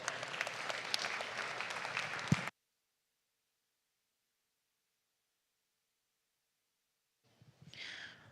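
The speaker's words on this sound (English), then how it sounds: "Let's give these youth and these animals a nice round of applause." Brief applause from a crowd at a youth dairy cattle show for champion cows and their young handlers, steady clapping that cuts off abruptly, then silence before clapping returns faintly near the end.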